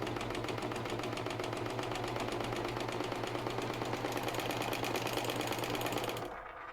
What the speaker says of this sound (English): And then you just serge.